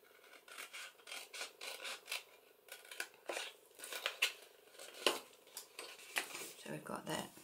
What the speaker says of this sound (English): We're going to cut that section out.